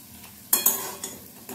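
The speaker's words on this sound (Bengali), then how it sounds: "আমি সামান্য তেলেই ভেজে নিচ্ছি" Thin slices of bitter gourd fried in a small amount of oil, heard as a soft steady sizzle with several loud scraping stirs of a spatula against the pan.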